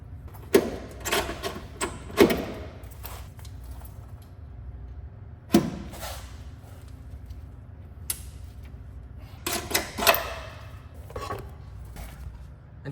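A hand rivet nut tool sets rivnuts into sheet metal in a car engine bay, giving a few sharp clicks and metallic crunches in separate bursts with quiet gaps between them, close by and without speech.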